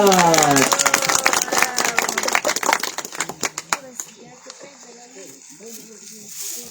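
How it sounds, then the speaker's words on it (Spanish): Clapping at a birthday celebration: a sung greeting gives way to a quick burst of close, loud hand claps from a small group, which fades into talk. "¡Fuerte las palmas!"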